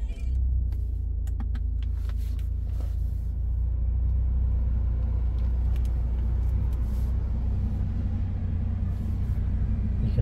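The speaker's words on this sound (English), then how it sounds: "To start the vehicle, put on your brake, push that button there." A 2018 BMW 2 Series Active Tourer 218i with a 1.5-litre engine is running after a push-button start, heard from inside the cabin as a steady low rumble with faint clicks and interior noises.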